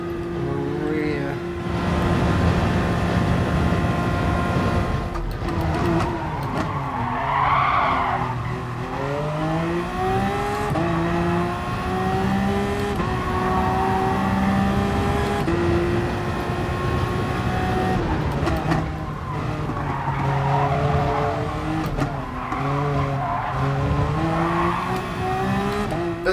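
A racing car in the Gran Turismo Sport video game, during an FIA Gran Turismo Championships race, roars through gear changes with rising and falling engine pitch and tire squeal through corners, while a person talks over it.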